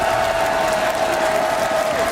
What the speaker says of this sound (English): j'ai envie de vous demander, mesdames et messieurs, d'applaudir une nouvelle fois Dambi pour Nongshim Red Force